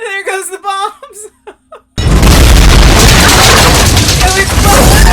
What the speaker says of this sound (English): there goes the bombs